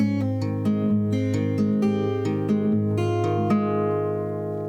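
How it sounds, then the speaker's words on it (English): Acoustic guitar plays the opening two bars of a song in G, a short run of clear plucked notes and chords with a steady rhythm, ringing out alone up close. "playing those first 2 bars together will sound like this"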